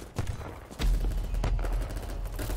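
Video game gunfire crackles in several sharp bursts and single shots, with low booming thuds underneath, in a tactical shooter-style match, fairly close and dense, with a faint voice briefly audible.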